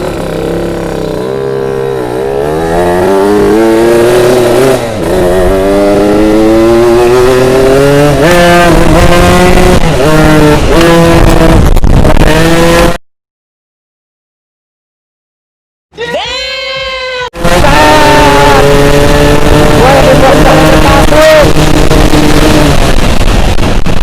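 A motorcycle with its exhaust silencer filter fallen off revs hard and loud, a harsh raw engine note climbing through repeated throttle pulls, cutting out briefly to silence before roaring again.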